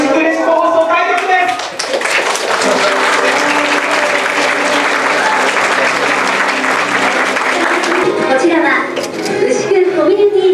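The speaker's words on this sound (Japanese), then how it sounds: "セレモニー会場は拍手と歓声に包まれ" Applause and cheers from a gathered crowd at the opening ceremony of FM Ushiku Ureshiku community radio station in Ushiku, steady dense clapping filling the space, with voices mixed in.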